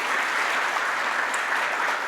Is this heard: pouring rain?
no